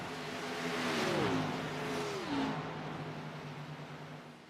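Xfinity Series stock cars race around the Texas track, engines rising into a roaring pass and fading, then a second swelling whine sweeping by at a distance, with no voices.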